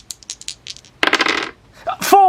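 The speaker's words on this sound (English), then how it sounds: "So if I can roll 10 dice without seeing a 4, I feel very lucky" Ten dice tumble and clatter together, a sharp cluster of rattling hits after a few light clicks, followed by a voice starting to speak.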